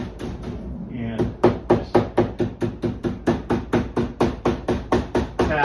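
A hammer taps cut staple wire flat on a rodent-proof seedling enclosure, giving about sixteen loud, sharp metallic knocks in a quick, steady rhythm after a brief quieter lead-in.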